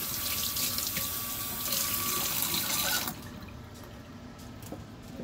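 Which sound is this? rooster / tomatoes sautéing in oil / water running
water running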